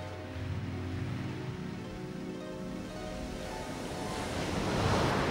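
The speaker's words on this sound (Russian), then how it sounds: "Видит, море слегка разыгралось." A slightly rough sea rolls and washes continuously in an animated fairy tale, with a windy hiss and a surge of surf growing louder toward the end.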